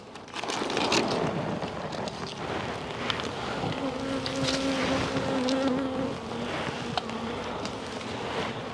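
A dense, steady buzzing of many honeybees in a hive fills the clip, with a low drone rising briefly in the middle and no voices.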